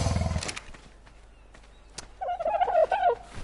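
Turkey gobbling: a faint rapid warbling burst of bird calls near the end, following a brief louder noise at the start, over a quiet background without talk.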